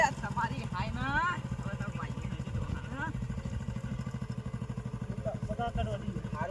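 A motorcycle engine runs with a steady, throbbing putter while the rider changes gear, heard close and moderately loud under near-constant talking from people nearby.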